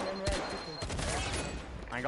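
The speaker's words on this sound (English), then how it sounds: "Lots of gunfire going in as Bania gets the down on Billy" Gunfire bursts in a tactical shooter video game match, several quick shots and a rattling fusillade layered over game sounds and tense team callouts from players talking throughout.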